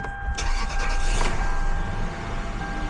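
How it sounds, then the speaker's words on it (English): A 20-year-old flex-fuel Lexus starts up, with a brief whirring crank that catches into a loud, steady engine idle close by. "We're going to go ahead and start the car to make sure that it still starts up and runs like it's supposed to."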